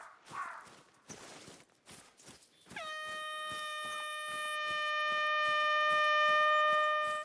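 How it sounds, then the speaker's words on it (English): A sustained multi-tone air horn blares in the Silver Ridge Peaks video game, starting abruptly after a few seconds of footsteps and quiet ambience, then holding loud and steady to the end. "It's like a horn or something."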